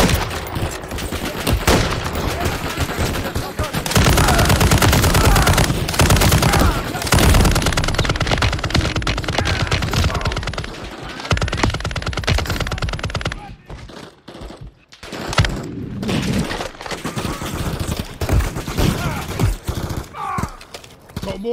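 Sustained, dense automatic gunfire in a Call of Duty Modern Warfare 3 firefight in a frozen tundra setting. Loud continuous bursts overlap with booms, ease off briefly around the middle, then return.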